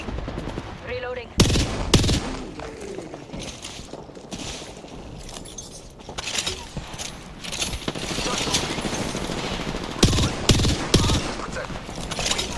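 Gunfire in Apex Legends: rapid automatic bursts and sharp single shots crack close and loud over a busy game soundscape, with a few metallic clinks between volleys.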